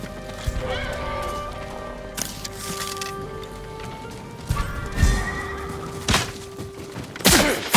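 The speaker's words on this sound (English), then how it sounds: "Let's get to the horses." Horses in the video game Ghost of Tsushima whinny and neigh near a samurai stable, with scattered hoof clops and several sharp bursts over a steady ambient game score.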